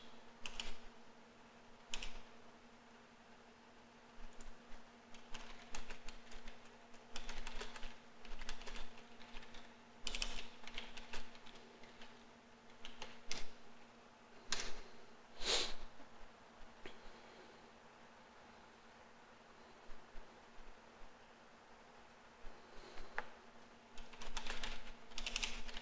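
A computer keyboard is typed on in irregular bursts of rapid clicks over a steady low hum, close but quiet, with brief pauses between flurries and no talking.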